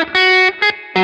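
Electronic music passage with loud, distorted-sounding transients: three bright, harmonically dense bursts of sound separated by short quieter gaps, played alone.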